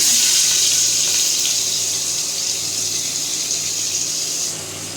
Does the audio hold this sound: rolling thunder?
no